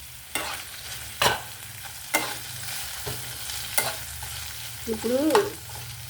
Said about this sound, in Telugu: మగ్గినాయండి బీరకాయలు.